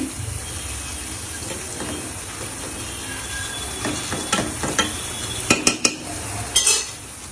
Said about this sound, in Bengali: মাছও দিয়ে দিলাম একটু হালকা নেড়ে দিচ্ছি